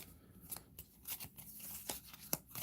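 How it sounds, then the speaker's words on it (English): A deck of cards being riffled and shuffled by hand at a tabletop, with quick crisp snaps and flicks in an irregular rhythm, close and fairly quiet. "I'm going to reshuffle all of these with my Atlantic City shuffling prowess"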